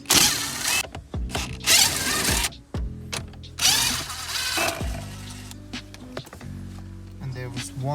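A power drill backs screws out of a car's gauge unit mounting in several short whirring bursts separated by pauses, close by, with a person talking between them.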